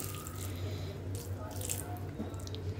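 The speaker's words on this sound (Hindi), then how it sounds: "तो इसमें मैं गर्म पानी डालूँगी जो कि अच्छे से भीग जाए" Hot water splashes and trickles steadily onto tamarind in a container at close range, a continuous wet pouring sound over a low background hum.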